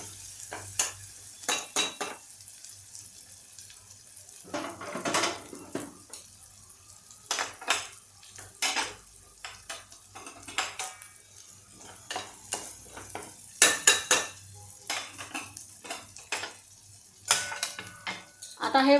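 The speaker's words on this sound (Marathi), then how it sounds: "आता आपण हे सातळतोय बघूया" Ground masala paste for pav bhaji sautés in a pan, with intermittent scraping and stirring bursts and clinks of a utensil over a faint, low sizzle.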